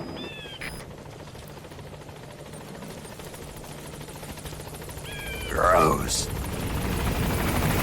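A helicopter in Metal Gear Solid V approaches with a low rotor drone that swells toward the end, while radio-style voices speak over it and electronic beeps sound.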